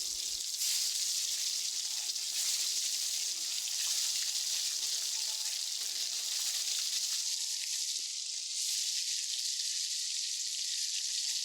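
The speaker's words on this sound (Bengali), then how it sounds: "এই তো আমি এবার একে একে সবগুলো ডিম ভেজে নিব।" Eggs fry in hot oil in a salted wok with a continuous bright, hissing sizzle, steady and close throughout with no voices.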